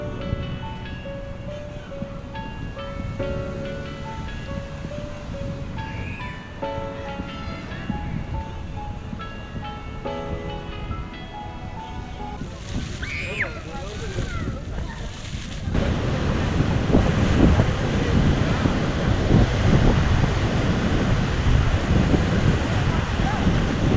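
Strong wind and rising ocean waves on Tel Aviv beach, Israel, give a steady rushing roar that swells louder in the last third, with faint music and voices underneath at first.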